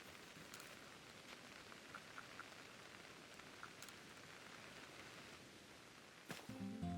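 Rain falling in a Pokémon video game, a soft, steady hiss of rainfall that runs evenly and quietly, with a brief sharper sound near the end.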